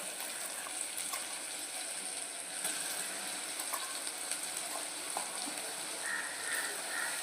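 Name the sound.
prawns frying with sautéed tomato and onion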